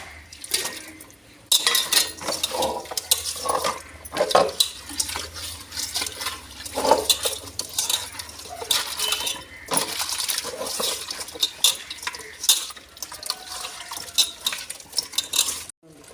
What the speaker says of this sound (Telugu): చేపలు ఉప్పు వేసి కడగాలండి